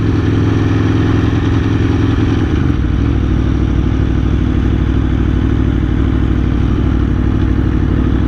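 An Aprilia Tuono V4 1100 motorcycle engine on a track day, a loud, steady close-up drone with a rough, clattering mechanical texture; the pitch drops slightly partway through, then it runs on without speech.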